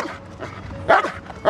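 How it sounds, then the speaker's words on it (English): A dog barks and yips near a car during a tense police stop, several short, sharp barks rising through the moment, with a little background noise. "Hey, watch that dog."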